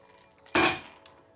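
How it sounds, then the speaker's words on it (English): A big ice cube lands in a cocktail glass during gin and matcha drink prep, giving one sharp clink followed by a short ringing fade and a faint second tap, with no talking. "we take a nice glass and our big ice cube"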